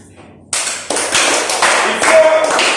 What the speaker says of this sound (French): on va encore applaudir pour Delphine.